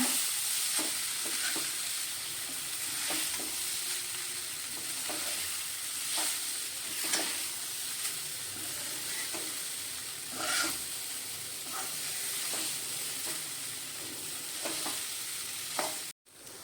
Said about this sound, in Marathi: आता आपण टाकूया ह्याच्यामध्ये पोहे मिक्स करूयात आपण